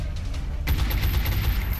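A sudden burst of gunfire in the strategy video game XCOM: Enemy Within, a sharp onset followed by a short rattling volley lasting about a second.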